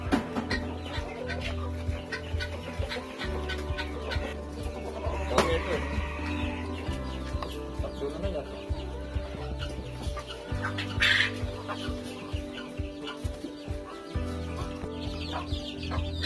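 Native Kerala country hens clucking in a backyard flock, repeated close clucks and rising calls over a steady background hum, with people talking nearby.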